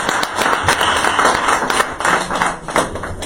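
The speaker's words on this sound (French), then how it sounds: "On va applaudir un peu." A small audience claps after a woman's testimony about domestic violence, a loud, close patter of individual hand claps with audible separate slaps, lasting a few seconds.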